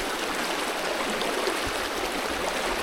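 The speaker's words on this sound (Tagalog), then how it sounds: "Malakas ang agos, saka malamig." A strong, cold river current rushes past, a steady broadband roar of flowing water close by with no talk.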